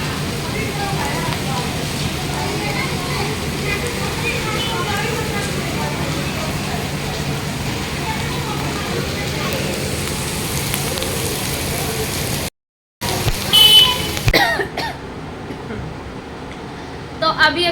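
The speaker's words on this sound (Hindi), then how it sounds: "और फिर बारिश शुरू हो गई।" Light rain falling during hot weather, a dense steady patter of drops lasting most of the clip, broken by a brief dropout and followed by scattered clatter and some talking near the end.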